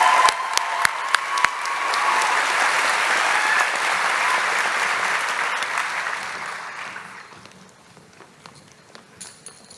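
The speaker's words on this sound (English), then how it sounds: "Please give all of our valedictorians one final round of applause as they take their seat." An audience at a Sandy High School graduation ceremony gives the valedictorians a final round of applause, opening with a few sharp claps before a dense, steady wave that gradually fades to scattered claps.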